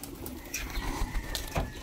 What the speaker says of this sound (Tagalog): Ay ang aming mga kalapati.